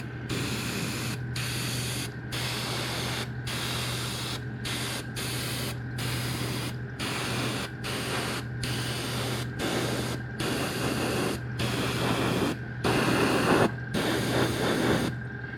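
Repeated bursts of aerosol spray paint hiss in short and longer blasts onto Warhammer 40k tabletop terrain, separated by brief pauses, with a low steady hum underneath.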